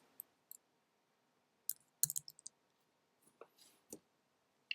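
Sparse, quiet key presses on a computer keyboard in short irregular bursts, a few isolated clicks then a quick cluster of taps, close and otherwise near silent.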